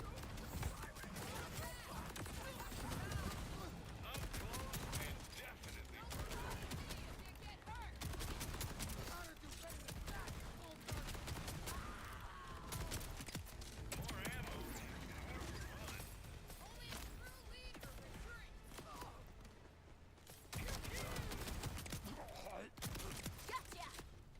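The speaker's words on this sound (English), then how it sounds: "Shooting, shooting, shooting, shooting." Dense, continuous gunfire in the shooter game Borderlands 4, with rapid bursts of shots and mechanical clatter throughout, sitting fairly faint beneath a voice talking over the action.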